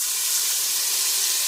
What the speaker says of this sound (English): as long as it's sizzling good